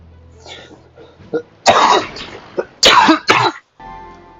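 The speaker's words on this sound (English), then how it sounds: "Sorry for the cough, guys." A person coughs loudly several times up close, harsh bursts in two clusters with a throat clear between them.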